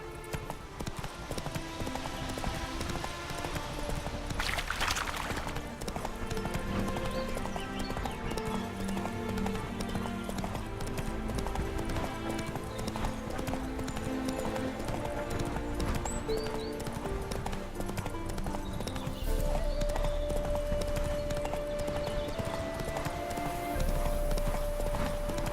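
Steady rhythmic hoofbeats of a horse galloping in The Witcher 3: Wild Hunt, continuous clip-clop over a game music bed, with a brief whinny near the start.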